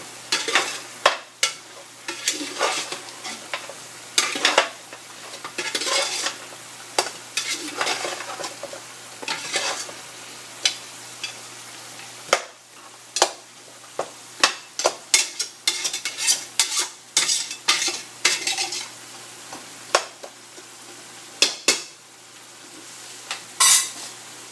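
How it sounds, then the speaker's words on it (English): Mutton stew being stirred in a pot after long cooking, repeated close scraping and clattering strokes of a spoon against the pot over a soft bubbling sizzle, no talking. "So now we have been stirring it for 15 or 20 minutes"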